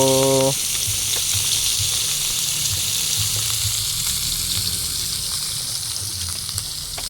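Loud, continuous sizzle and crackle of fish frying in hot oil, close up, after a brief tonal beep at the start.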